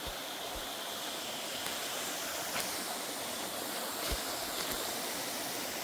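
Water pours steadily from a pipe into a waterwheel flume, a continuous broad rushing and splashing heard up close, with a few faint clicks and no talk.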